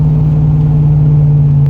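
An old Ford F-150 pickup engine idling with a steady low drone, loud and close, with no other sounds.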